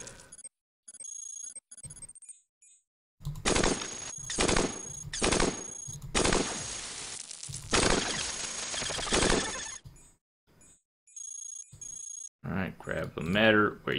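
Enemy gunfire in the Cogmind video game rings out as loud, rapid bursts that start and stop abruptly, separated by short gaps, with electronic beeps and tones between the volleys.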